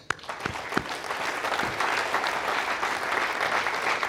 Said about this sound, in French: il faut applaudir pour Colleferro, il faut applaudir pour le boulevard ou l'avenue